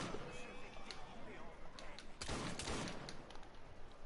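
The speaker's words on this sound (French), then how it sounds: "on va lui mettre une balle." Gunshots in the Assassin's Creed video game, a short burst of firing around the middle with game ambience and some speech mixed in.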